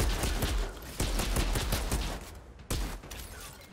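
Rapid bursts of gunfire from a weapon skill in the shooter game Outriders, loud and dense, with two sharp volleys standing out at the start and near the end.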